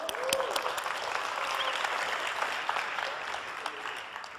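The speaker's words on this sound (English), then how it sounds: "Give yourself a round of applause." Seminar audience applauding after being asked to clap for themselves, a full, steady roar of many hands clapping that holds for several seconds and tapers slightly at the end, with a few faint voices mixed in.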